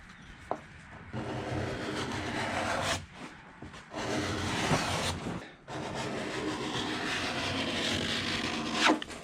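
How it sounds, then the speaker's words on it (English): A steel card scraper drawn across a wood surface, giving a series of rough, raspy strokes with short pauses between them, loud and close with no talking. "So I'll get it close with a scraper, and then I'll finish it up with sandpaper."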